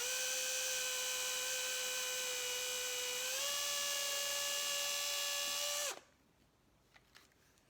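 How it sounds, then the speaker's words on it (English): A power drill boring pilot holes into a guitar body, a steady high whine that shifts pitch partway through and then cuts off abruptly, leaving faint clicks and handling noise in near silence. "hold the drill as straight as possible, drill your pilot holes, and just stop when you get to the"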